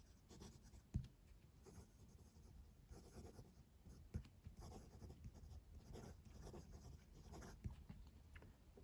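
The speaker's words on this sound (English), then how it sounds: "Let's do some writing with this pen." A Diplomat Excellence A2 fountain pen with a steel nib writing on paper, a faint, close scratching that continues in irregular strokes, broken by a few soft taps and slightly louder pen movements, with no talking.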